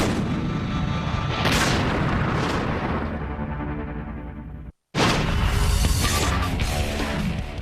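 Iron Fist, an Israeli anti-tank defensive system, firing: loud booming blasts with a long rumbling decay, a moment of silence, then another heavy blast and roar.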